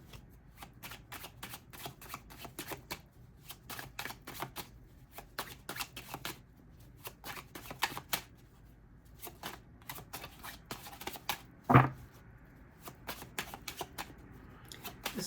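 Tarot cards being shuffled by hand in a quiet room, a long run of close, crisp riffling and flicking bursts with one sharper slap near the end, no talk.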